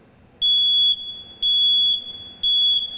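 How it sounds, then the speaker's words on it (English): Three loud, piercing high-pitched beeps from a smoke alarm, evenly spaced about a second apart, with quiet gaps between them. "You push the cover by the light and the alarm will sound."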